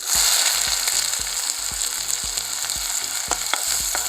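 Onions frying in oil in a pan as a tempering for dry-fish chutney powder: a loud, continuous sizzle broken by regular scraping and tapping from stirring. No one speaks.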